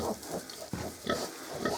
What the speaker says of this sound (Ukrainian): Ось такі маленькі поросятка, друзі. Просять кушати.